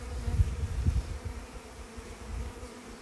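A package of honeybees being installed into a hive buzzes in a low, wavering drone that rises and falls with bumps and rustles, close by, with no voices.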